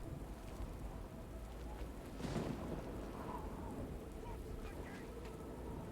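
Steady rain with a rumble of thunder swelling around the middle, in a stormy outdoor scene from the Oblivion video game; continuous hiss throughout, no talk.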